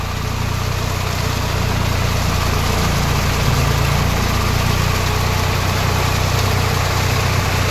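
A 2006 Swaraj 744 FE tractor engine runs steadily at about 1200 RPM in low third gear, a loud, continuous low diesel drone with a constant vibrating rumble and no talk.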